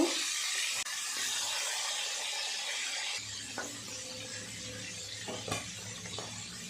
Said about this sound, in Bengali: এই মাছগুলো ভাজা হয়ে গেছে, তুলে নেব।